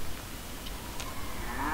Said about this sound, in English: And I found me a cow.